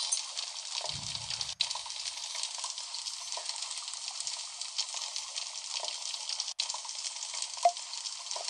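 Spoon stirring pasta with carrot and salt in a children's cooking video game, a steady synthetic sizzling, stirring wash that runs continuously and fairly loud with brief dropouts, no talk.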